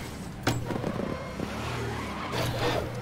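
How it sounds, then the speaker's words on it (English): A burly race car engine in GRID 2019 revs hard through gear changes, loud and close, with some tire noise and a brief lull before it surges again. "Listen to this burly car."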